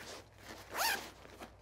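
A zipper on a Virtue Gambler backpack and gear bag is drawn around the bag's edge in one smooth, close pull that rises to a brief loud burst in the middle, with no talking.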